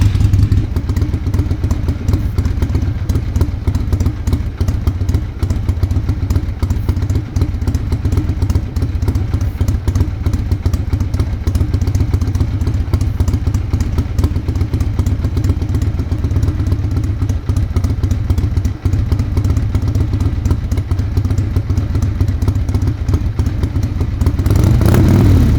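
An Ironhead motorcycle engine, struggling with carburettor coughs and sputters, holds a steady loud high idle for a long stretch, with a constant rumbling, clattering drone close by and no voices.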